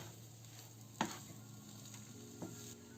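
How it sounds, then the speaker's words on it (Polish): Quiet steady sizzle of green beans frying in a pan over the lowest heat, with a couple of soft stirring knocks and a low hum underneath. "Cały czas smażymy to na najmniejszym ogniu"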